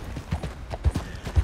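Horse hooves in the video game Red Dead Redemption 2 clip-clop in a quick, uneven rhythm, with several heavy thuds standing out close and fairly loud.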